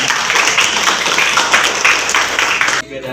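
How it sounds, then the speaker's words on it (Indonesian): A group claps at a school learning supervision session, a loud, dense burst of applause that holds for about three seconds and then stops abruptly. "Tepuk tangan."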